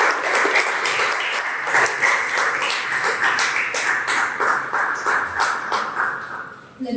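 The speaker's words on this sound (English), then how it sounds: "I'd like you to give them a round of applause" An audience at a panel discussion with a 14-year-old author claps steadily in a room, with dense, sustained applause holding level for about seven seconds.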